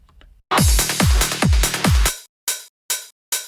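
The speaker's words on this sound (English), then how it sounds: "with my hi-hats, I don't like them so they sound like this" A crisp drum-machine hi-hat pattern, a run of quick open hits followed by three short, sharp closed ticks with gaps between them, played alone.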